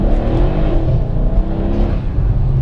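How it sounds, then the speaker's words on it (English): A Mercedes-Benz W212 E63 AMG engine revving hard as the transmission downshifts aggressively in Sport Plus, a loud, close, throaty roar with a steady low growl and no talk. "Sport Plus will downshift a lot more aggressively,"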